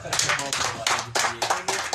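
Clapping in a radio studio during a music promo show, a handful of people giving a few quick, close bursts of claps in an uneven rhythm over a brief two seconds.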